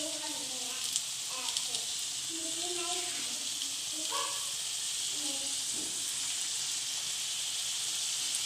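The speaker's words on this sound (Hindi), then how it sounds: "इस तरह से डालिएगा कि सारे एक साथ ही फ्राई हो जाए।" Chicken tikka tandoori momos frying over low heat in a pan make a soft, steady sizzle and hiss, with brief clatters and a few short vocal sounds in the background.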